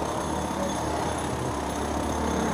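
Steady traffic rumble from vehicles moving along busy M. G. Marg in Gangtok, a continuous low drone with no distinct single pass-by and no talking.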